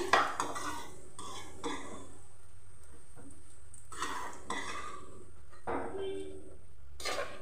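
Fried bitter gourd pieces scooped from the pan onto a plate, bringing several scraping and clinking utensil strikes between quieter stretches, with a faint frying hiss underneath.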